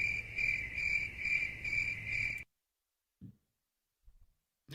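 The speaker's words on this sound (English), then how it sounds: "Oh, wait, the crickets again." Crickets chirp in a steady pulsing trill for a couple of seconds, then cut off abruptly to near silence with a few faint muffled bumps.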